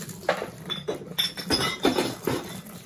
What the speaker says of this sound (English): You want to dump them in this pot.